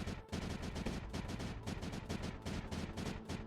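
Rapid, dense bursts of cannon fire from the Creeper World 4 video game repeat in a fast, continuous barrage, loud and close throughout.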